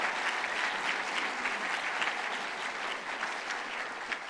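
Audience applause for an award recipient, Montgomery Hospice president Ann Mitchell, taking the stage at a Leadership Montgomery ceremony: dense, steady clapping from a large crowd that holds for several seconds without a break.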